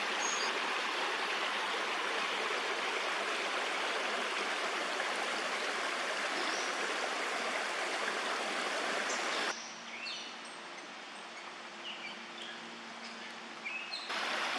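A creek in Steinman Run Nature Preserve, Lancaster County, Pennsylvania, flows with a steady full rushing wash, then turns softer and trickling partway through, with faint bird chirps in the background.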